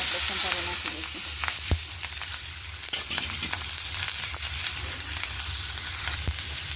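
Asafoetida and turmeric tempering in hot oil with sambharo added, a dense continuous sizzle and crackle filling the space, with occasional sharp spatters and faint stirring, close and steady, no talking.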